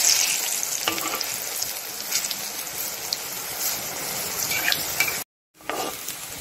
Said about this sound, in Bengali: এরপর উল্টিয়ে পাল্টিয়ে বড়াগুলো লাল লাল করে ভেজে নিতে হবে।